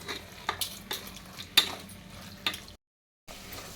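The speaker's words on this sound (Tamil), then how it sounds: "இது இன்னும் கொஞ்சம் நேரம் நல்லா வதங்கட்டும்" Chicken sautés in spiced oil in a pan, a soft sizzle broken by a few scraping stirs and light clinks of a spoon against the pan, quiet and close, with a brief silent gap.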